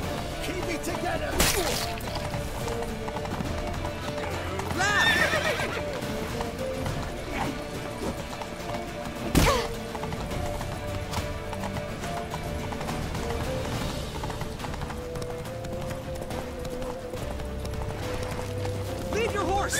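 Horses from The Witcher 3 clatter along in a steady galloping clip-clop, with a brief neigh, set under game voices and background noise.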